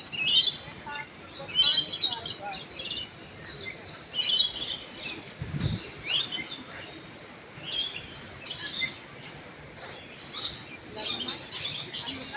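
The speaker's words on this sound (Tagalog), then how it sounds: "Ang ingay ng mga ibon." Many birds chirp busily in repeated bursts, a noisy chorus of tweets filling the air, with a brief low thump partway through.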